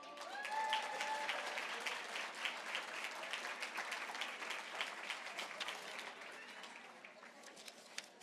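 Gala-night audience at the Journey for Hope event in Switzerland applauds musicians, a dense, sustained patter of many hands heard at a fairly soft distance, with a murmur of voices underneath and a scattered clap near the end.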